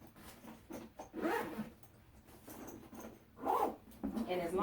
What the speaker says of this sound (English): as long as it zips up enough to where you can roll it, even if it's not zipped all the way, it's fine